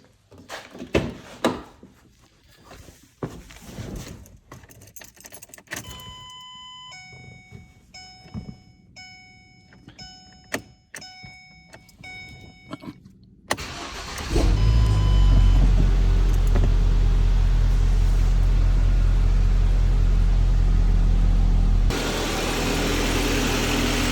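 Car engine cranking, catching and settling into a steady loud idle after a valve cover seal replacement, preceded by clunks, clicks and electronic chimes from the cabin.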